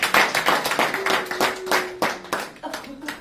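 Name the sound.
congregation clapping in church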